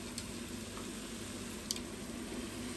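Onion and chicken frying in a pot, a soft steady sizzle with faint crackles, no voices.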